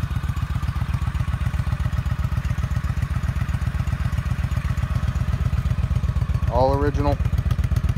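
Honda Shadow ACE 1100 motorcycle engine running from a cold start, a loud, steady, close idle with a rapid rhythmic thumping beat, and someone briefly speaking over it near the end.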